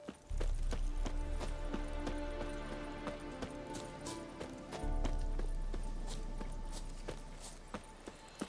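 Horse hooves clip-clop in The Witcher 3 video game, a steady walking rhythm of hoofbeats over a low rumbling background and game sounds, with no talk.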